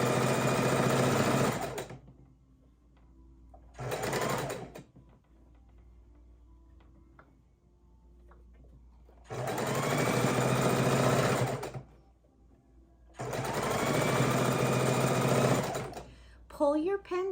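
A sewing machine stitches quilt pieces in several loud bursts of rapid steady whirring, the runs separated by quiet pauses, with a brief voice near the end.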